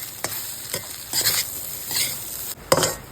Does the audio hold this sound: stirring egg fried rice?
yes